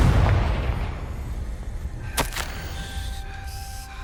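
Confringo blasting spell in Hogwarts Legacy: a rumbling blast at the start, then a sharp double crack of explosions midway, followed by a ringing magical tone that fades out.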